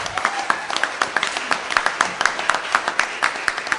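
Audience applause at a ceremony recognising a speaker, a thin scattering of distinct claps in an uneven rhythm, moderately quiet, from a smallish crowd.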